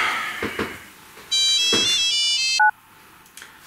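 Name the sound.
phone ringtone inside the Spinosaurus in Jurassic Park III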